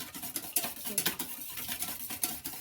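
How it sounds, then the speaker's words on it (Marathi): Egg, milk and sugar whisked together in a bowl for French toast, a close, steady run of rapid rhythmic tapping and swishing strokes with no talk. "आणि हे चांगलं मिक्स करून घेऊया चांगलं एक जीव करून घ्यायला घ्यायचं त्यासाठी चांगलं पेटून घेऊया"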